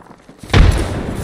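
A frag grenade detonates in a shooter video game, one abrupt low boom after a quiet moment, followed by a lingering rumbling tail.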